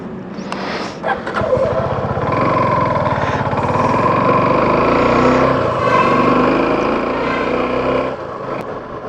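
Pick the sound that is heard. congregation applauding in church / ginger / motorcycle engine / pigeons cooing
motorcycle engine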